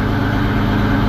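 A tractor engine idles steadily while warming up on a farm before hooking up a cultivator, a loud, close, even low rumble with no breaks or voices.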